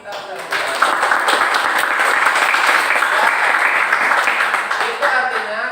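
A classroom of students bursts into applause, a dense, steady wash of clapping that holds loud and even for several seconds before tapering slightly at the close.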